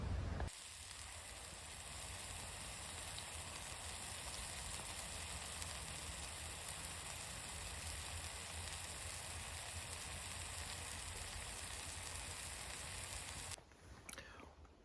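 Food sizzles steadily in a stick skillet over a twig burner at a woodland camp, a constant close hiss that holds for most of the stretch before cutting off near the end.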